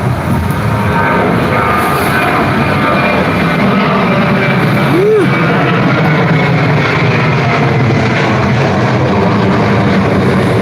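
Virgin Australia airliner climbing away into low cloud on a rainy afternoon, a steady broad roar of jet engines under continuous rain hiss, fairly distant and unchanging throughout.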